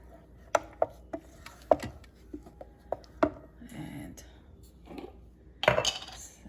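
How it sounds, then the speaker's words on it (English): Spoon stirring whipping cream into malai kofta sauce in an Instant Pot, a run of sharp metallic clinks and scrapes against the pot, some close and loud, with a busier clatter near the end. "Give it a quick stir."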